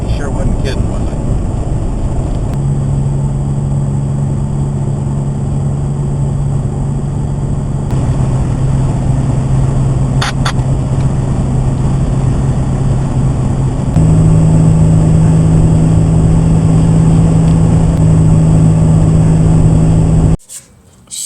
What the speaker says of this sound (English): It has come apart and is vibrating and making a lot of racket